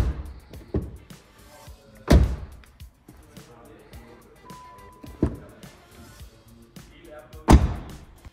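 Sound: car door closing

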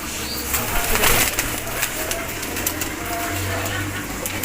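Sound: pigeons cooing

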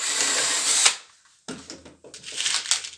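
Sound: drilling pilot hole with 3 mm drill bit into pallet

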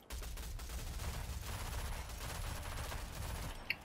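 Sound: gunfire in the Rogue Company video game

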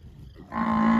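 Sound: Nelore cow mooing

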